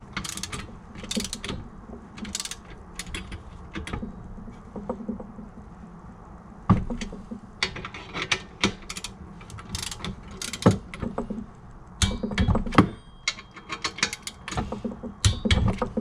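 Torque wrench tightening bolts on Brembo brake parts fitted to an Acura TL, with repeated ratcheting clicks and metallic knocks in quick bursts, close and fairly loud, with no talk.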